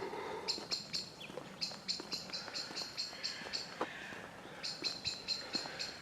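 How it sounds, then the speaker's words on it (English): Woodland birds in Fineshade Woods call agitatedly in rapid, repeated high chirps, a busy run of sharp tweets across the whole stretch at moderate distance, with faint insect-like buzzing in the background. "The birds are throwing a little bit of a tantrum."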